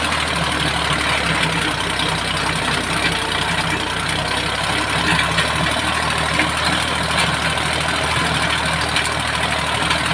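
A small Kubota L2000 tractor engine runs in fourth gear with a loud, steady, close drone and no break in the sound, no voices.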